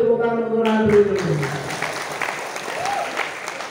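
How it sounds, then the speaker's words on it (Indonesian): An audience claps for Randri during an Islamic religious talk on Maulid Nabi; a voice trails off at the start, then scattered claps swell into a moderate round of applause that fades slightly. "Beri tepuk tangan untuk Randri"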